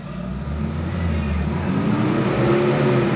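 A Mitsubishi Xpander's engine revs steadily while its alternator is tested, a loud, continuous rising drone close to the microphone with no voices.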